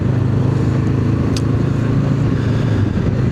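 Steady engine drone and wind rush from a Honda NX500 motorcycle riding along a road, loud and continuous with no talk.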